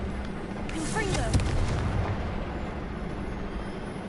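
A Confringo fire spell blasts in Hogwarts Legacy, a booming explosive burst around the middle of the clip over a dense, continuous game soundscape with music and effects.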